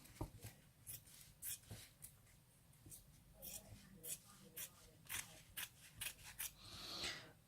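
Scissors snip through fabric for tilda doll legs in a quick series of close, crisp cuts, some in bursts of two or three, with a soft rasp at the end and faint rustling between.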